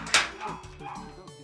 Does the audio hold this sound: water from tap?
no